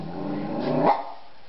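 A dog gives a low, drawn-out growl that rises into a short bark, close by, then stops.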